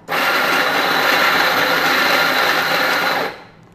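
A Ferratti Ferro FGM-700AC coffee grinder grinds coffee beans with a loud, steady high-pitched whir that starts abruptly and holds evenly for about three seconds before cutting off and winding down.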